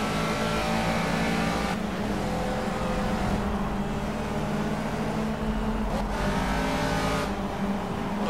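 A race car engine pulls out of the pit lane in the Project Cars racing game, droning steadily and loudly with revving swells throughout, no voices over it.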